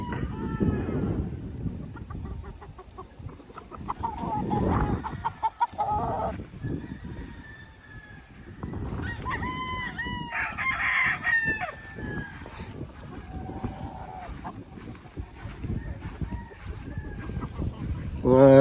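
Young gamecock stags crow repeatedly and cluck close by, with several overlapping calls across the stretch, while people talk under and between the crows.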